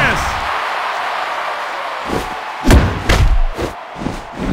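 A wrestling arena crowd roars in the WWE Mayhem video game, a loud broadband wash punctuated by several heavy thuds and slam impacts in the second half, with voices mixed in.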